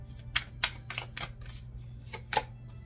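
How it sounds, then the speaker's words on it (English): Tarot cards being shuffled by hand at close range, a run of soft crisp riffles and taps in irregular bursts over a steady low hum, with no talking. "I'm gonna shuffle."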